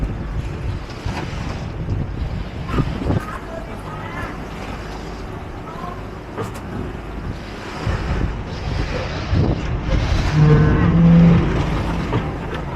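Steady wind and water wash on a boat ride in Thailand, constant rumble with surf-like swells rising toward the end, faint voices mixed in.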